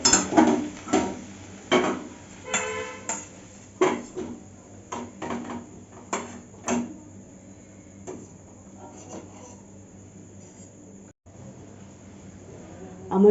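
Cooked bottle gourd peel is scraped out of a metal pan, with a string of close, sharp clinks and scrapes in an uneven rhythm that thin out toward the end.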